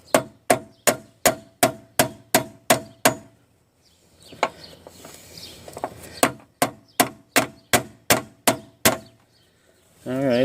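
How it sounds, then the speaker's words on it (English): Sharp metallic hammer strikes on a Ford Fusion door hinge pin ring out in quick, even series, eight or so at a time, then a pause with faint rustling before another steady run of blows. "we'll take our big hammer here and we'll just hit it"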